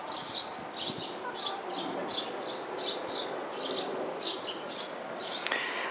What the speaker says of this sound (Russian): и птички поют